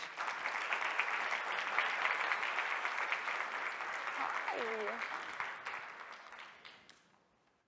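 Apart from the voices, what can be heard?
audience applause welcoming guests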